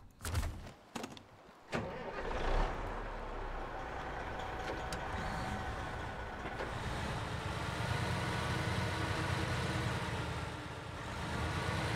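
Engine of the Twin Star truck in the video game SnowRunner, a steady, fairly loud drone running throughout after a few brief clicks and bumps at the start, with no talking.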